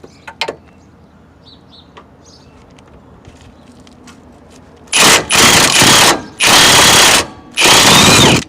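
An impact tool with an 18mm swivel socket on a 6-inch extension works the Jeep's track bar bracket bolts: four loud, close, sustained bursts separated by brief pauses, following a stretch of quiet with faint clicks.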